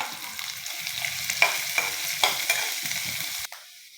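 Carrot and onion frying in a pan for sugar-diet upma, soft steady sizzling with a few sharp clinks and scrapes of a spoon stirring, close and quiet with no talking.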